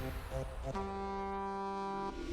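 A deep, sustained horn in Minecraft blares for over a second, loud and steady, preceded by shorter tonal bursts.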